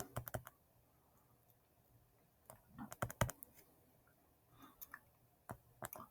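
Sparse, crisp clicks of someone typing C code on a computer keyboard, coming in short irregular bursts with pauses between them, close and fairly quiet.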